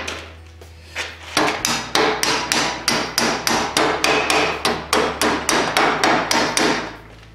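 A hammer strikes a metal bending fork held in a vise again and again in a steady, even rhythm, about twenty ringing blows, loud and close with no talking.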